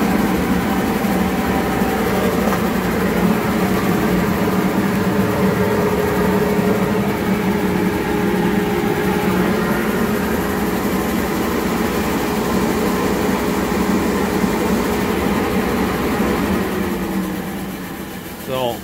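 A shop vac fitted with a new filter runs with a steady, loud motor whine and a droning hum for the whole stretch, easing off slightly at the very end.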